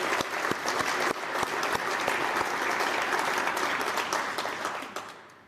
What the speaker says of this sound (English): I think they should be given a round of applause for the work they've done for the last year.